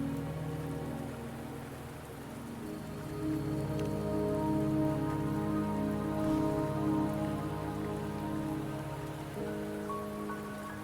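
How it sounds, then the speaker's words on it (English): Steady rain falls in the video game Wuthering Waves, a continuous patter of drops on surfaces layered over a low, droning tonal background, with no voices heard. "Don't worry, the rain won't last much longer."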